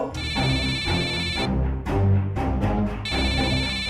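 A telephone rings in repeated electronic bursts over a bed of music, pausing briefly between rings, loud and close.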